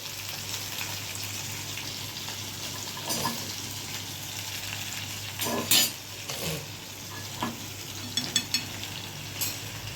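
Oil sizzles and crackles steadily in a pan as garlic fries in a tempering, with occasional spoon scrapes and clinks as the garlic is stirred.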